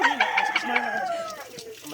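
A rooster crows close by in one brief, rising and falling call, with faint background sounds.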